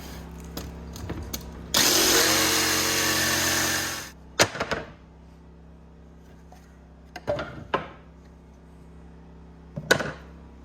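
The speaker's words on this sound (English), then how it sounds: "just drilling some holes. That'll let the jigsaw in." A power drill whirs loudly for about two seconds drilling holes in wood, followed by scattered knocks and clatters of wood and tools.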